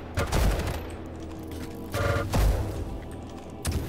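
Gunfire in a first-person shooter game running as a graphics card benchmark on an XFX RX 570 4GB, with short bursts of rapid shots separated by pauses, loud and close.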